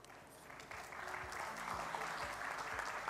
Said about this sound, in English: Let's give a big round of applause to Prof. Omata.